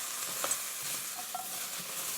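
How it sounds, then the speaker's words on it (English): Vegetables sizzle and crackle in a hot pan, with soft stirring scrapes and small clinks, fairly quiet and continuous. "just keep stir frying them for a good 2 minutes"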